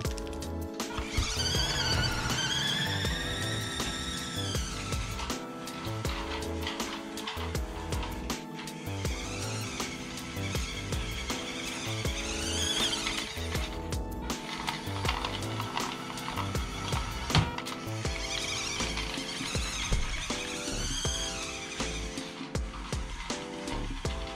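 A WPL C24 1:16-scale RC crawler's electric motor runs at full throttle, a close mechanical whine that rises and falls in repeated sweeps over ratcheting gear noise.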